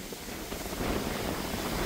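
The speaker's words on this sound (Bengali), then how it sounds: "ব্রহ্মপুত্র নদের পারে প্রচন্ড বাতাস বইছে।" Strong wind blows across the bank of the Brahmaputra river near a bridge in Jamalpur, a steady, loud, buffeting roar that rushes over the microphone with no voices.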